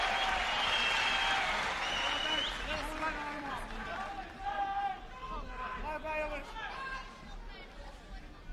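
An arena crowd at a 1997 fight between Valentijn Overeem and Masayuki Naruse, a loud swell of murmuring and shouting that fades into scattered babble, with voices running underneath.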